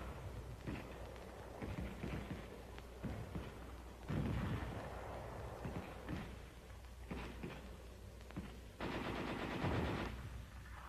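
Heavy machine guns in a 1944 infantry attack fire sustained bursts of rapid shots, with dense rattling stretches and louder volleys; no voices over the gunfire.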